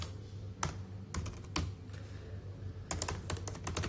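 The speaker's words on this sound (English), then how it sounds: "what is wrong with this person with her terrible typing skills" Keys clatter on a computer keyboard in uneven bursts of clicks over a steady low hum, close and moderately loud, with no talking.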